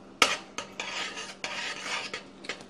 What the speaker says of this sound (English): And we're going to start mixing.